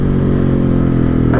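A Husqvarna 701 motorcycle fitted with a Remus exhaust gives a loud, close, steady engine drone with a deep, rich throb, heard under way without any speech.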